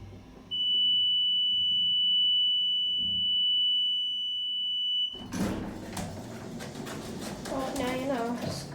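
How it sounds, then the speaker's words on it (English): A Westinghouse hydraulic elevator buzzer in a Macy's store at King of Prussia Mall sounds one long, loud, steady electronic tone for several seconds, then stops as nearby people start talking over faint background noise. "the buzzer on this thing is so annoying."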